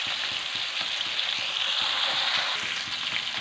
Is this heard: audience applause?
no